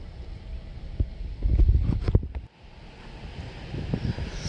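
Strong wind on a hilltop buffets the microphone in gusts, swelling loud in the middle, dropping off abruptly and then rising again in rougher bursts.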